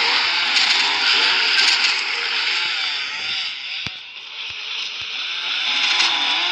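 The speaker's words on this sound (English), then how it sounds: "a chainsaw kills these zombies off really fast" A video-game chainsaw hacks through zombies, a loud continuous buzzing snarl that stays dense and steady for several seconds with brief sharp hits cutting through, and no talking.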